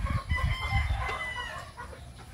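Chickens cluck in quick bursts close by at a backyard coop, then a rooster crows in the middle, with more scattered clucking trailing after.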